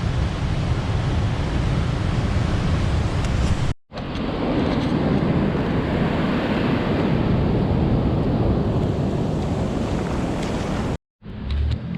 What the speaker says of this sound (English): There's quite a lot of wave action going on there